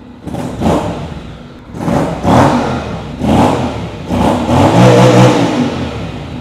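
A Honda XADV 750 maxi-scooter engine revs up in four or five separate bursts, each rising and dropping back toward idle, close and fairly loud with no talking.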